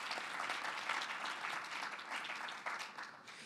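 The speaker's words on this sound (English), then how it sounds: "Can we give them all one more round of applause?" Faint, distant audience applause for panelists at a cultural entrepreneurship pitch event, a dense continuous patter of many hands that holds steady before easing slightly near the end.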